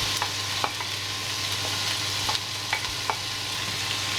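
Chopped streaky bacon frying in a pot with shallots, a steady soft sizzle with occasional sharp crackles and stirring scrapes, close and fairly quiet with no talking.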